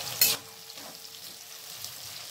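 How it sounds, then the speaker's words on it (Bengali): Cauliflower florets with turmeric frying lightly in oil in a pan, a steady close sizzle with a short sharp scrape or stir near the start, otherwise a continuous quiet crackle. "হালকা করে ভেজে নেব।"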